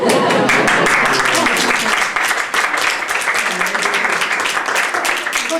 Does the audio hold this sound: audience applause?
yes